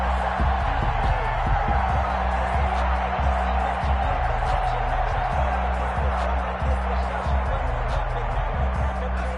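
A stadium crowd in a football video game roars and cheers continuously, a steady wash of noise beneath a low rhythmic thumping, with no voices heard on top.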